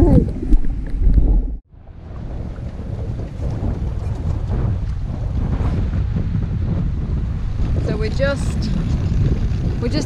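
A Farr 7500 trailer yacht setting off under sail from Swansea Channel on Lake Macquarie, with steady wind buffeting the microphone and water rushing past the hull; a loud burst of handling noise opens before a brief dropout.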